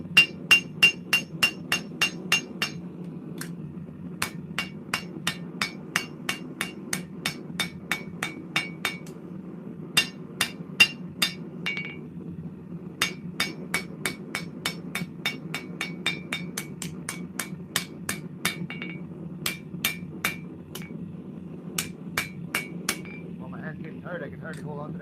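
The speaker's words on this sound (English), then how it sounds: "I can hardly hold on to the hammer." A hand hammer strikes hot steel while a blade is being forged, sharp ringing blows landing in rapid rhythmic bursts with short pauses between, close and loud over a low background hum.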